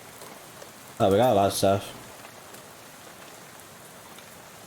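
Steady rain patter from the video game Shadow Over Loathing runs through the whole stretch, with a voice briefly speaking over it near the start.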